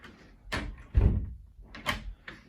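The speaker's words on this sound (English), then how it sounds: "We use the thumb turn here to withdraw the latch or the bolt, and now we can open the door." A door with a fin bolt thumb turn is unlocked and opened, giving a few close mechanical clunks and rattles of the latch and bolt, spaced irregularly with no voices.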